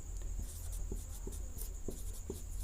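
Pen or chalk writing on a surface during a geography lesson, a series of short scratchy strokes at an even, unhurried pace over a steady low hum, close and fairly quiet.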